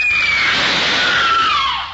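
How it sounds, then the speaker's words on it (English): A high-pitched scream from a monster film scene, a loud, sustained shrill cry that slides slowly downward over about two seconds before fading, heard alone without talk. "That scream, high enough to shatter crystal."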